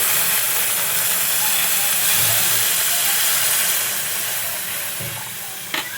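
Hot milk poured into fried vermicelli for shevai kheer, giving a steady close rushing hiss that holds for about five seconds, then eases, with one small clink near the end.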